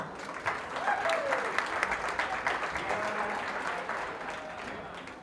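Spectators applauding at a junior fair sheep show, a steady, moderately distant patter of many hands clapping for several seconds, with some murmured voices beneath it.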